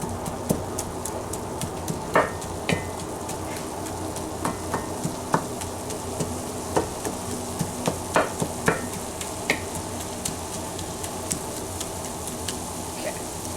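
Ground beef browns in a hot pan for a stroganoff, giving a steady sizzle and crackle. Frequent sharp pops and spatters break through, with occasional stirring scrapes.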